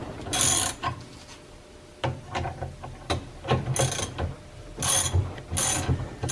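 A hand ratchet clicks in short, irregular bursts of sharp pawl ratcheting while tightening a spring compressor on lowering springs, with pauses between strokes in a quiet workshop.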